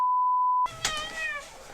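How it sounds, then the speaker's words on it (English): A steady electronic beep cuts off, then a cat meowing at a door gives one drawn-out, wavering meow close by. "You meowing at the door again?"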